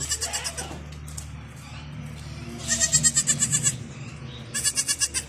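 A goat injured by a dog bite bleats in three short, pulsing bursts: one at the start, a longer one midway and a final one at the end, with quieter background sound between them.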